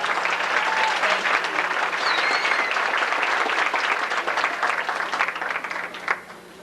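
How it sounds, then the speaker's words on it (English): An audience at a high school pageant breaks into a full round of applause, steady and sustained clapping filling the hall before it drops off abruptly near the end. "Let's give them a roaring round of applause."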